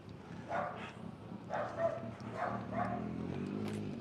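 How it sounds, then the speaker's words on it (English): Dogs barking, several short yips and barks spaced apart at moderate distance over a steady outdoor background. "The doggies"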